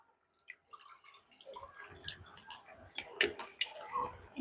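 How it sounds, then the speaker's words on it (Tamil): Corn soup drips and trickles through a strainer in irregular patters with faint clinks, starting sparse and growing busier, quiet and close. "இப்போ நாங்கள் இதை திருப்பி ஒன்றில் வடிச்சிடுவோம்"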